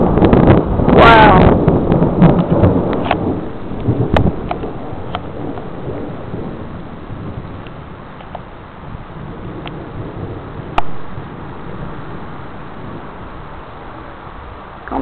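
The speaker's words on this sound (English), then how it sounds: "Comes that storm. It's getting ready to rain." An outdoor thunderstorm brings a heavy rumble early on, followed by sustained wind buffeting the microphone, with a voice speaking amid the gusts.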